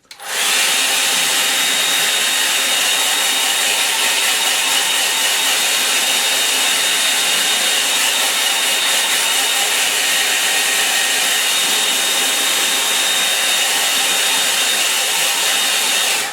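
Hair dryer blowing over a watercolour painting of a rocky stream, a steady loud whoosh running without a break for the whole stretch, close by and alone.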